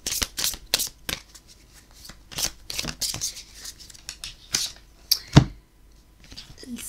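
Numerology oracle cards shuffled by hand, a series of crisp riffling and flicking bursts in an irregular rhythm, close and clear with quiet pauses between.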